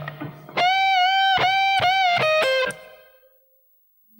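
A distorted electric guitar plays a short two-bar lead phrase, moving from sustained singing notes to quicker picked ones, with a long held tone that fades out. It is played solo and up close.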